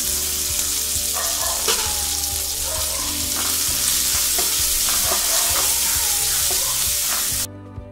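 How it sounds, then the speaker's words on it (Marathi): Green chillies sautéing in oil for lemon rice, with a loud continuous sizzle and repeated stirring scrapes, close throughout, ending with a sudden shift near the close. "मिरची चांगली परतून घेऊया"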